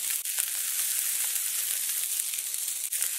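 Ground chuck and short rib patties with onions, seasoned with adobo, sizzle loudly and steadily in a hot pan, a dense continuous fry with a couple of brief breaks, close up and alone.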